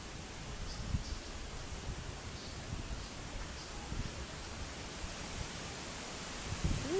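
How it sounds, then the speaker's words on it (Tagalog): Constant broad roar of strong wind gusting steadily, with faint rustling throughout and a few soft thumps. "Lakas ang hangin guys eh"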